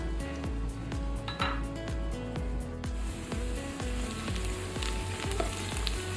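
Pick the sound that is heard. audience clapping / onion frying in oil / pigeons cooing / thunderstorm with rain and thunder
onion frying in oil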